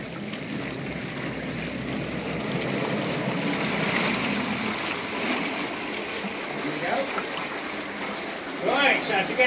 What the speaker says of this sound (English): we've got an electric engine off a milk float